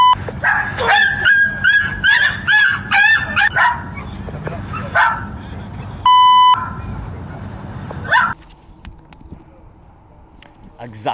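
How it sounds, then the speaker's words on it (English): Dog yelping, barking and whimpering in distress while being violently attacked, a rapid burst of sharp high cries over the first few seconds, then scattered yelps and a loud beep, with voices mixed in and quieter trailing noise. "see a dog getting violently and brutally attacked"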